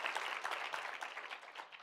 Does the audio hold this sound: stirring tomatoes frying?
no